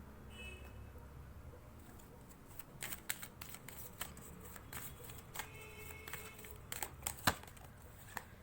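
Tarot cards are handled and shuffled nearby, a soft rustling bed broken by several crisp flicks and slaps of card stock, loudest near the end, with no talking.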